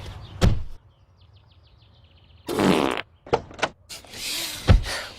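Cartoonish farts from a 1990s video game, several loud, short bursts separated by quiet gaps, with a longer wet, buzzy blast in the middle and faint chirping tones between them.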